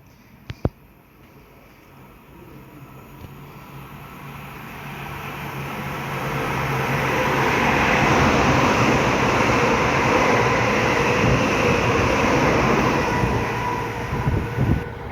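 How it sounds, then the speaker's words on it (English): An Avanti West Coast class 807 train passes through Rugby on the West Coast Main Line; a faint rumble swells into a loud, sustained rushing roar of wheels and air that holds near the end, after a couple of sharp clicks at the start. "passing through now is a pair of 805s going from Holyhead to London Euston"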